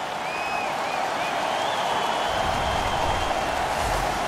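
Hockey arena crowd in NHL 15 during a Canada versus Germany game, a loud continuous roar with a few whistles early on, swelling a little louder in the second half.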